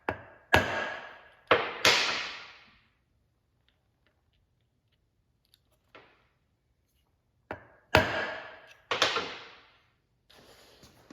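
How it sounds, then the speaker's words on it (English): A hammer lightly taps a valve seat in a 4L80E transmission valve body, a few sharp metallic taps, two quick pairs separated by a quiet pause, each ringing briefly before fading, close by with no talking. "you tap that lightly with a hammer"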